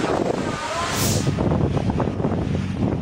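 Strong typhoon wind and rain lash Batanes, a rough, gusting roar with a brief hissing swell near the start, steady and loud throughout.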